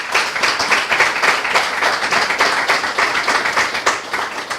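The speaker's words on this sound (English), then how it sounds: "Give yourselves a round of applause" Newly sworn-in island constables and guests clap at their swearing-in ceremony, a dense, fairly loud, continuous patter of hands.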